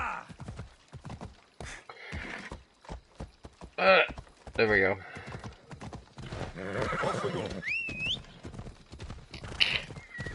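A unicorn-styled horse in Assassin's Creed Odyssey clip-clops along a road with brisk, rhythmic hooves and lets out a whinny, loud and up front, while someone speaks briefly over the game sounds.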